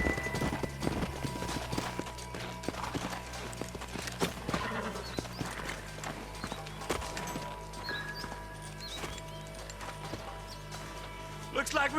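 Horse hooves clip-clop in the Western video game Red Dead Redemption, an irregular run of hoofbeats with a whinny, set over game music and ambient drones while characters talk.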